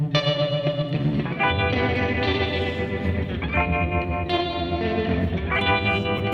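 Electric guitar through a tremolo effect, with dense pulsing chords that throb steadily in rhythmic waves, loud and continuous with no talking.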